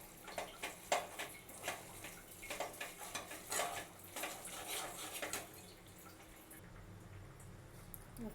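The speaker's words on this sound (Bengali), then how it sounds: "এই যে এইখানে আমি চিনির ক্যারামেল করে নিচ্ছি" Sugar stirred in a pan as it melts into caramel for Bengali motichur laddu, with close scraping strokes and soft sizzling for several seconds before the stirring stops and the pan goes quieter.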